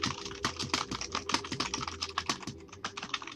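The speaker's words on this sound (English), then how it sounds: "and then type your question like this" Rapid, close keystrokes on a computer keyboard as a question is typed, a dense irregular patter of clicks with no voice.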